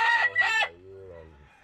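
A young fighting rooster crows loudly and close by, one full cock-a-doodle-doo that trails off into a lower, drawn-out tail, with no talking.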